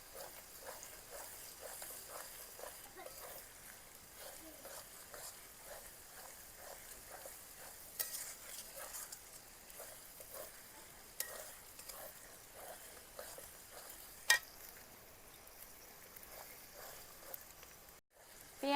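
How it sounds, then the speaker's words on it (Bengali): Onion, tomato, ginger and garlic fry together in a pan, a soft steady sizzle under repeated light scraping strokes of a spatula, quiet and close. "পেঁয়াজ টমেটো আদা রসুন সব কিছু একসঙ্গে বেশ সুন্দর ভাজা ভাজা হয়ে গেছে"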